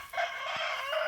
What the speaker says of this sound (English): I thought roosters only crowed in the morning.